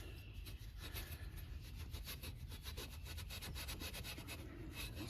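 Steady, continuous scrubbing of rust off Cadillac seat rails, a close, loud rasping stroke repeated rapidly without pause.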